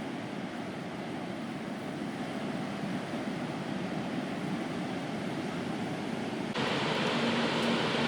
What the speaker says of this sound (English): This isn't just any waterfall.